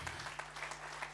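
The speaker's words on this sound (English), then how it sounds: "If you can just rise to your feet and let me give Pastor Abi a very big round of applause." Brief applause from a conference audience at a wealth summit, a short burst of clapping at low level with a steady low hum beneath it.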